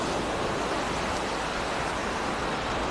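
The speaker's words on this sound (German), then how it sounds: "Hier am Strand von Gülodo." Steady wash of surf rolling onto the beach at Gündoğdu on a late afternoon, a continuous broadband roar of breaking waves with some wind, filling the scene without pauses and with no voices.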